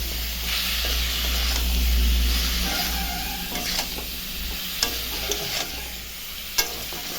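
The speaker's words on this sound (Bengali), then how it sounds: "সবজিটা ভালো করে এখন ভাজা ভাজা করবো" Vegetables stir-fried with turmeric and salt in a pan for mashkalai dal give a steady, close sizzle and hiss throughout, with a few sharp clicks of the spatula stirring near the end.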